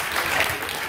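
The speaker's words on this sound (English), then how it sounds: "Everybody clap for him, too." Audience applause at a live animal show featuring a corn snake, a brief burst of many hands clapping, fairly loud and close, filling the whole moment without speech.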